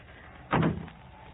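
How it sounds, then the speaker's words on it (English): A car door shuts once with a dull, muffled thud, a single close impact against quiet background, heard over a narrow, old-radio-quality sound. "I'll close the door on this side and come around."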